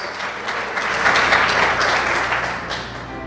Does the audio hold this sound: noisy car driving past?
no